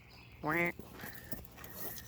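A garlic scape pulled from the soil gives one loud, short, nasal squeak that sounds like a duck's quack, standing out from quiet outdoor background noise.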